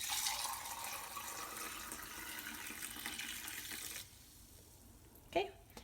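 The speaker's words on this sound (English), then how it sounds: "So I'm gonna go ahead and pour some in." Bear root tea, brewed with roots and mullein, pours through a strainer into a mug as a continuous liquid splashing and trickle for about four seconds, then stops, followed by a brief clink.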